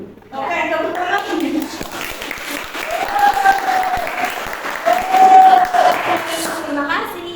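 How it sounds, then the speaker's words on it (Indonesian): Applause from a high-school class during a Christian values lesson, a steady wash of clapping for several seconds with some children's voices and chatter mixed in, filling a classroom. "Oke, tepuk tangan."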